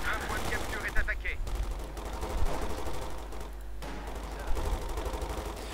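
Dense gunfire from the World War II strategy game Company of Heroes 2, set in the Battle of the Bulge, with rapid machine-gun bursts and rifle shots rattling continuously, loud and close, with a few sharper cracks standing out.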